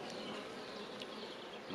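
Honeybees buzzing in an open beehive on a frame of foundation wax, a dense steady close drone with no pauses and no talk.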